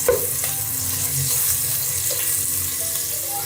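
Finely chopped onions fry in oil in a cooking pot for chicken biryani, giving a steady, close hiss of sizzling that runs unbroken with no talking.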